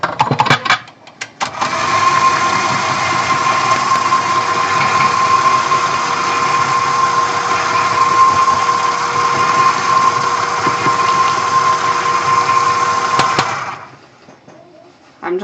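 An electric mixer with a beater running on low speed while making soft gingerbread cookie dough, a steady loud whirring motor hum that starts after a brief rattle and stops near the end.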